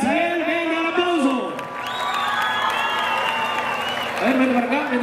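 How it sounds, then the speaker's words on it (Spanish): At a lively Spanish-language game show, the studio audience applauds and cheers loudly, with whoops and shouted voices riding over the clapping and some sustained vocal calls near the start and end. "venga el aplauso"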